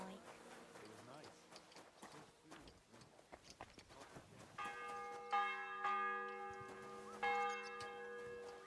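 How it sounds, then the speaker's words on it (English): A church bell in the video game Kingdom Come: Deliverance II starts ringing partway through, sustained resonant strikes with long ringing overtones, after a stretch of clip-clopping hooves and ambient sound, while speech runs underneath. "The bell's ringing for Hans the 5th time."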